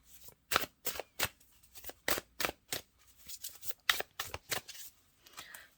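Tarot cards are handled and laid out by hand, giving a quick series of close, crisp flicks and slaps in an uneven rhythm with brief gaps, no talking over them.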